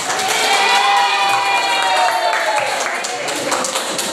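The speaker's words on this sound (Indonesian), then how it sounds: "Tepuk tangan untuk semuanya." Applause and cheering from an audience at a school teaching event, with children shouting and high excited voices over a continuous bed of clapping, loud and close throughout.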